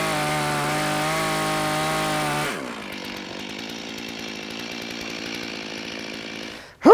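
A chainsaw cuts through a log at a sawmill, its engine whining loud and steady before dropping to a lower, rougher cutting drone, with a sharp burst at the very end.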